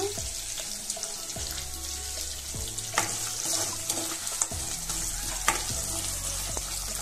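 Dried red chillies and curry leaves frying in hot oil for an Andhra pachi pulusu tempering, a steady close crackling sizzle with occasional stirring scrapes and sharp pops throughout.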